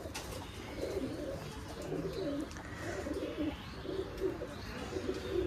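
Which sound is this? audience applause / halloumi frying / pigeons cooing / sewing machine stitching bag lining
pigeons cooing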